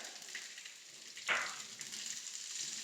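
Peas frying in a pan for kachori stuffing give a faint, soft sizzle, with one brief louder hiss as something is stirred or added partway through.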